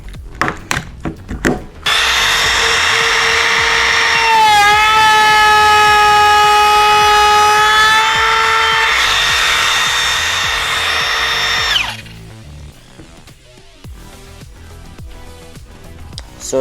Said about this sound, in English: By the way, this is the M18 cordless router